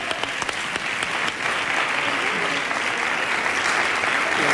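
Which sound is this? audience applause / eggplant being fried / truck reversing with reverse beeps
audience applause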